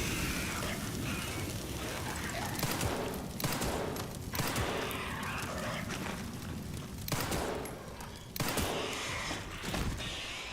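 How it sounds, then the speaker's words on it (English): Gunfire in the survival-horror video game Resident Evil Requiem, dense bursts of shots layered over a constant loud mechanical game soundscape, with no talk. "It'll probably be easier to just shoot him."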